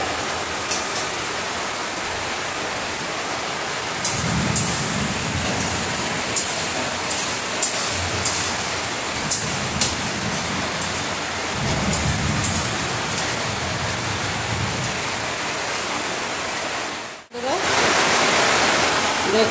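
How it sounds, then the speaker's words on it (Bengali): Potatoes frying with spices in a pan while cooking a Bengali banana-blossom kofta curry, a steady dense sizzle throughout with a few low thuds and stirring noises, briefly cut off near the end. "দিয়ে দিচ্ছি আলুটা মশলার সাথে।"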